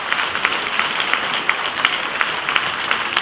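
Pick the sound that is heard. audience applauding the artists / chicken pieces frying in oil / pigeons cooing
audience applauding the artists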